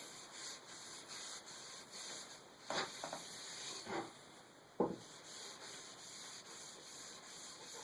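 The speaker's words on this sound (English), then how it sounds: "And get some of this excess off of here." Cloth rubbing excess wax off a turned wooden cutting board, a soft steady scrubbing with a few louder strokes and a sharp tap near the end, close and alone.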